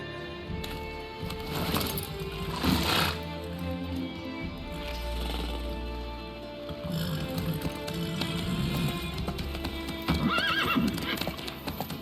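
A horse clip-clops along in the video game The Witcher 3, its hooves keeping a steady, fairly close rhythm across the whole stretch. Whinnies, snorts and a low rumbling backdrop are heard, and there is no talking.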